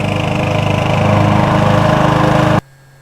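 A gas lawn mower engine runs steadily and loud up close with a fast pulsing drone, then cuts off abruptly near the end, leaving near silence.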